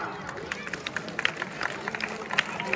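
An audience at a Ramlila event in Barkot village applauds a guest being honoured, with scattered, fairly quiet claps and background crowd murmur.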